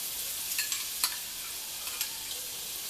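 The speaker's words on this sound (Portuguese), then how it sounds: "Vamos colocar a nossa manteiga, que nós vamos fazer a selagem do nosso cupim" Butter melting and sizzling in a pan before searing cupim beef, a soft steady hiss with a few sharp pops and clinks scattered through it.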